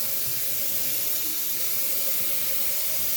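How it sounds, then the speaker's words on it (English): Water runs steadily from a kitchen sink tap as canned goods are washed with a little soap and water around the rims, a continuous close hiss with no talking. "I need to wash my canned goods off"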